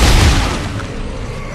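An overpowered gun in Dead Space 3 fires one heavy, booming blast that hits hard at the start and then fades into a lingering rumble.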